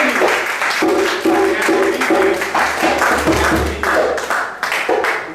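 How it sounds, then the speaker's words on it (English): An audience claps steadily and loudly for several seconds, a dense wash of applause with voices mixed in beneath it. "I want you to give yourselves a round of applause."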